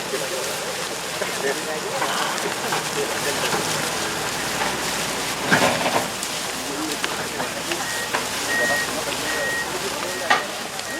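A vehicle reversing as it turns around in a village, its repeated backing-up beeps sounding at a distance under steady rain-like noise and people talking.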